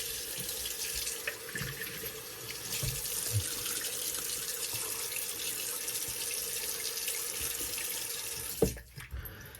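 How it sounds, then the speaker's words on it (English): A tap runs steadily into a sink to rinse alum off the skin, a continuous close hiss of water that ends with a clunk as the faucet shuts off. "rinse the alum off."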